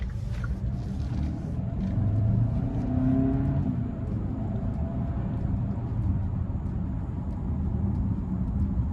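A 2023 Hyundai Santa Cruz pickup with a 2.5 engine and 8-speed dual-clutch transmission accelerating onto a street, heard from inside the cabin as a steady low engine rumble and road noise that swells and then settles.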